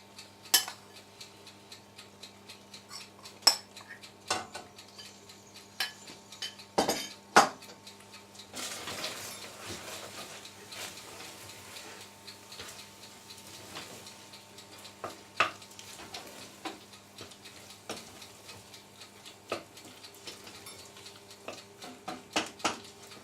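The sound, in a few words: stirring cheese into macaroni cheese with leek in a pan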